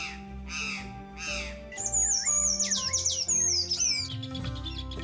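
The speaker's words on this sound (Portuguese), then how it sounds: "Sabiás, tico-tico, corruíra, sanhaço. Uma variedade de aves inicia a cantoria para atrair as fêmeas." Brazilian songbirds, including sabiá, tico-tico, corruíra and sanhaço, sing during mating season: clear repeated whistles and rapid warbling trills overlap, close and bright, with a few harsher calls and no voices.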